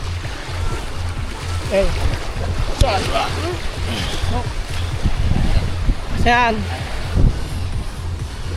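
Sea waves are whipped up by the southwest monsoon wind. A constant rushing wash of surf and wind roars on the microphone while people talk over it.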